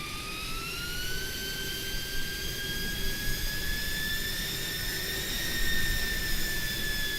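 An Airbus A300 in a flight simulator lands with its thrust reversers roaring, a loud continuous jet rumble with a high whine that climbs and holds steady for several seconds, with no voices.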